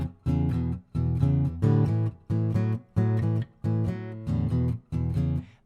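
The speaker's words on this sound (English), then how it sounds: "he'll play like open strings going to the next chord" Electric guitar playing a blues lick in a 12-bar shuffle, open strings ringing between chords, in steady rhythmic bursts of strummed notes with short gaps, clear and close, no voice.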